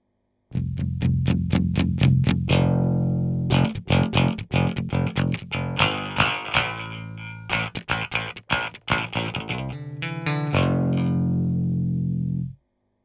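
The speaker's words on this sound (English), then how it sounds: "Wiring 2 pickups out of phase to each other can be a really cool effect" Distorted electric guitar with two pickups blended in and out of phase plays chopped chords and bursts of riffing, the tone shifting between thin and fuller as it goes, loud and close with no talking.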